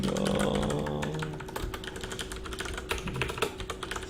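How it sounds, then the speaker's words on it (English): Rapid typing on a computer keyboard, a close, irregular patter of light key clicks running for several seconds over a low background hum with a steady tone. "Sorry that I'm typing,"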